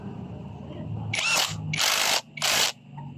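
Power tool tightening the camshaft sprocket bolt on a Honda RS 125 fi engine during reassembly: three short bursts of high whirring, close and loud, separated by brief pauses over a quiet workshop background.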